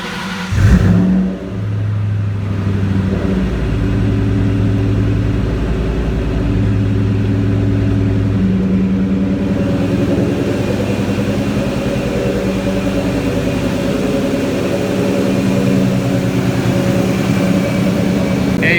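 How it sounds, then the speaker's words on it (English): The engine of a 2003 Ford Mustang SVT Cobra fires with a brief burst, then settles into a loud, steady drone with wavering tones that runs throughout. "push in the clutch, push in the gas all the way, and just crank it"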